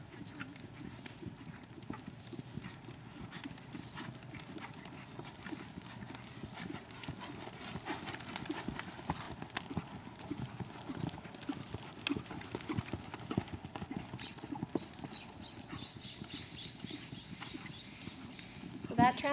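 Dressage horses' hooves clip-clop steadily on an arena surface as riders work, a continuous rhythmic patter with an instructor's voice speaking over it throughout.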